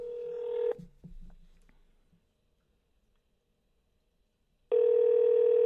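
A telephone line is used to place a call. A steady electronic tone with a few faint clicks stops, and after a few seconds of near silence a loud, close, continuous tone returns.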